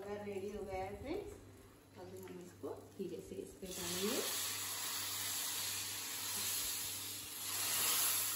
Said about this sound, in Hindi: ऑयल लिया है, उसमें तेज पत्ता और मिर्च डालेंगे और आखो वगार की पेस्ट।